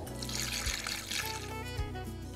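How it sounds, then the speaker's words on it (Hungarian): Water poured into a pot over pieces of meat, including a leg, a continuous close trickling and splashing that fills the pot, steady with no speech. "felöntjük vízzel"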